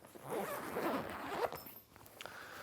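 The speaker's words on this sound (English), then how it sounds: "So unzipping the back side" A zipper on the back side of a Sterkmann travel bag is pulled open in one close, scratchy run lasting over a second, followed by a few small clicks and rustles.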